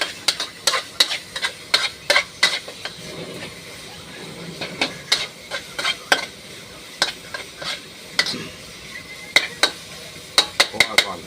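Aromatics for a Thai beef meatball basil stir-fry are tossed in a hot pan, with close, irregular scraping and clanking strokes of a utensil against the metal over a soft continuous sizzle.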